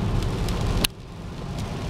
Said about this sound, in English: A little bit of rain to make the trees green.